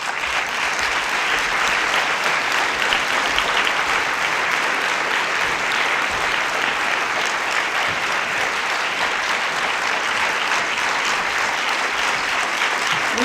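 Sustained audience applause at a film premiere at the Capitole, a dense steady wash of many hands clapping, loud and even from start to finish.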